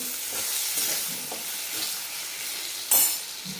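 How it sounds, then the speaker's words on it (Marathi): Chopped tomatoes frying in a pan for a dhaba-style shahi paneer masala gravy, a steady close hiss of sizzling oil with soft stirring scrapes and a brief sharper clatter near the end, no voices. "दोन टोमॅटो आपण मोठे मोठे याच्यामध्ये कापून घेतलेले आहेत ते टाकून घेऊ"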